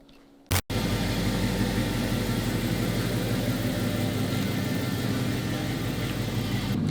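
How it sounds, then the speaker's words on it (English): A 1984 Chevrolet K5 Blazer truck runs steadily as it pulls away, a continuous loud engine drone filling the scene after a brief sharp thump near the start, probably the hood shutting. "So we'll shut the hood and we'll take off."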